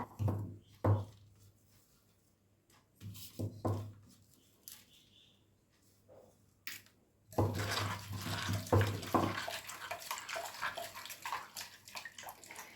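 Chopped cabbage is rinsed by hand in a vessel of water in a home kitchen. Scattered splashes and drips come first, then a steadier, louder sloshing of water for the second half, close up and with no talking.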